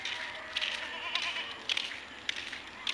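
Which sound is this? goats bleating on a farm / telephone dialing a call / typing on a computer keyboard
goats bleating on a farm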